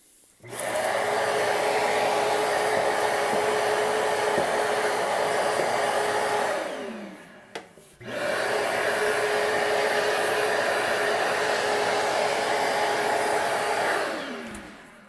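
Airthereal touchless automatic electronic dustpan vacuum in floor mode with its sensor on, whirring steadily and loudly, cutting off briefly midway and then starting again for another long run.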